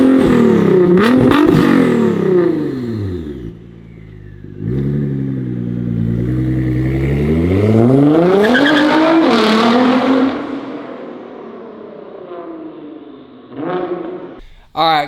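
A new car revs hard and drives past close by, its engine note climbing and falling through several loud surges with tire squeal, then fading into the distance before a brief final burst.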